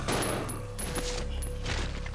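Gunfire aimed at zombies in Resident Evil 0 as a quick burst of loud, close shots with sharp repeated cracks over about two seconds, with no talk over them.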